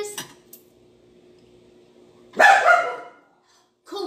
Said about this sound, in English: If people want to hear you barking and growling.